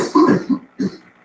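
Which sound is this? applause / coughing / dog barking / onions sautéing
coughing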